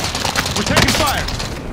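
Video game gunfire from enemies shooting at the player: a loud, dense burst of rapid shots packed across the whole short stretch, with battle voices mixed in.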